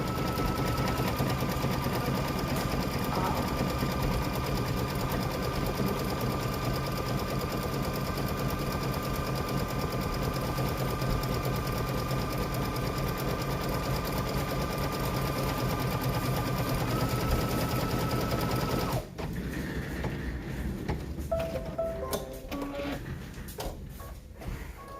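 A sewing machine runs continuously while stitching a fabric mug wrap, a steady mechanical whir that stops near the end, followed by a few clicks and handling noises.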